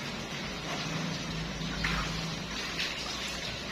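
Koi fish are washed together in a net in a small tub, and the water splashes and sloshes in a faint, continuous churn with a couple of slightly louder surges.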